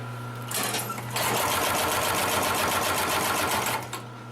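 A Consew 733R-5 heavy duty sewing machine stitching through several stacked layers of material, starting with a short burst, then running in a fast, even mechanical hum and clatter for nearly three seconds before slowing, close and loud, no voices.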